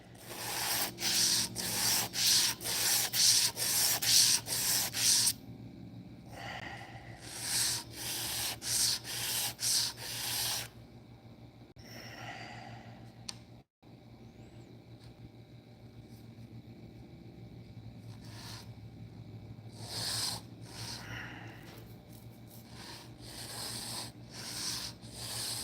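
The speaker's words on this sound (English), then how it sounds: "And I need a new piece of sandpaper." Hand sanding of a part with sandpaper, rapid rhythmic back-and-forth rasping strokes, close and loud, with pauses between bursts and quieter stretches of softer rubbing.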